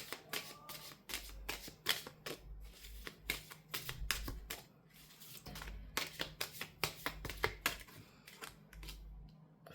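Tarot cards being shuffled and drawn give quick, crisp riffling bursts and soft flicks, repeating in clusters through the stretch, close and fairly quiet with no talk.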